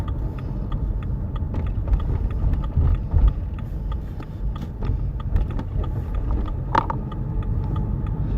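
Steady cabin rumble of a BMW 1 Series driving on a rural road, with continuous low engine and tyre drone and scattered light clicks and knocks throughout.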